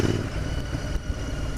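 Royal Enfield Interceptor 650 motorcycle engine held below 4,000 RPM on a test ride, a steady close rumble with broad low-end drone and road noise throughout.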